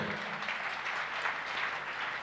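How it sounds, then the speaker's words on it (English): Faint, steady applause from a church congregation, a soft wash of clapping heard from a distance. "Give Jesus a clap offering."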